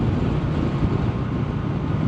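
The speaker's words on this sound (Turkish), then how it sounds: "Ya çok felaket bir rüzgar var." A strong wind blows by the sea, a heavy, low, continuous roar buffeting the microphone, loud and steady throughout with no voices.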